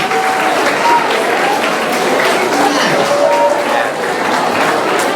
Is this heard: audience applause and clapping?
yes